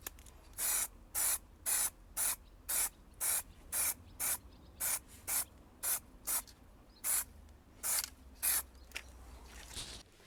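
Plastic Coat brilliant metallic spray paint hisses onto antique sewing machine parts in about sixteen short, evenly spaced bursts, close and crisp with quiet gaps between them.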